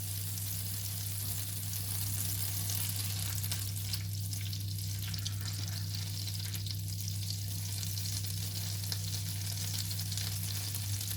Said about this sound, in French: un bon morceau de beurre, hop, voilà, on laisse tranquillement fondre.